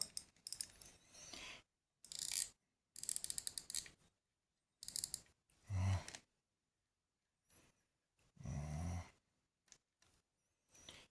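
Close, quiet bursts of ratcheting mechanical clicking from a fishing reel being wound, in short irregular spurts separated by silence.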